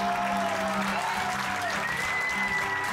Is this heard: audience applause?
yes